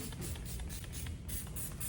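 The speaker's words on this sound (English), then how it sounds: "I'm gonna spray some paper towels again." Repeated short hissy bursts of a spray bottle pumping onto paper towels while cleaning a permanent makeup workstation, fairly steady rhythm over a constant low background hum, no talking.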